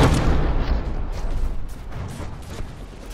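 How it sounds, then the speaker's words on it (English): Naval guns in the From the Depths game fire shells in heavy, rumbling booms that blur into a continuous loud roar of blasts, with no voices. "It fired like one shell, now it's firing two."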